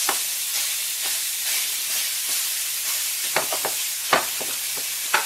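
Ground beef dropped into a pan of sauteed garlic gives a steady bright sizzle, with a few sharp stirring scrapes and clicks near the end, close and moderately loud.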